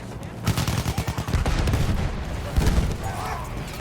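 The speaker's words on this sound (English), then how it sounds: "the constant sound of gunfire" Constant gunfire from a Battlefield 1 battle scene, with rapid bursts of automatic fire and heavy booms rolling over a dense, loud din.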